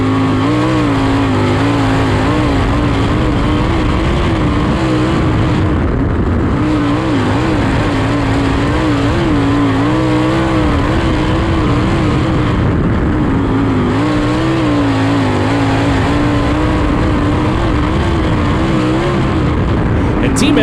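USAC sprint cars run qualifying laps at Lawrenceburg Speedway, a dirt oval, with a loud continuous engine roar that rises and falls as a car circles, while an announcer talks throughout.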